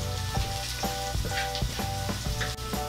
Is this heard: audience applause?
no